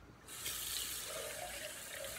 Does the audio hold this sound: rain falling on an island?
no